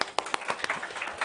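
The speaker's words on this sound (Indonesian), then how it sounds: "Tepuk tangan dong saudara." Scattered hand claps from a wedding congregation in a church, several sharp claps blending into light applause, moderately close, brief and uneven.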